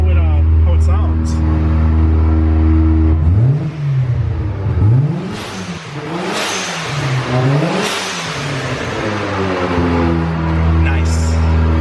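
Mazda RX7 rotary engine idling steadily, then revved several times in rising and falling sweeps before settling back to idle, loud and close, with people talking over it.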